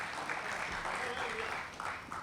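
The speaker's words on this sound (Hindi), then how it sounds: "जोरदार तालियां इस शेर के लिए" Audience clapping at a Hindi-Urdu shayari poetry recital, a dense, continuous patter of many hands that swells and fades over a couple of seconds, mixed with murmured crowd voices.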